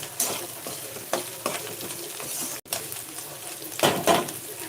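Vegetables with peas and chickpeas frying in a pan for upma, a steady sizzle broken by repeated scraping stirs of a spoon against the pan, with faint bird calls in the background.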